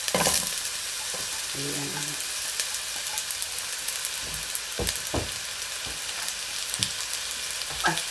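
Onions sauté in oil in a large wok for miki noodle guisado, with a continuous close sizzle and hiss and intermittent knocks and scrapes of stirring; a brief word is spoken near the start.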